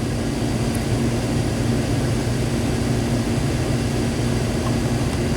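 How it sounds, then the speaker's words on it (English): Car heater blower fan pushing cold air across the heater core on an icy January day, a steady loud drone with a low hum that does not change throughout. "now that I've got the blower running and pushing 19 degree air across the heater core"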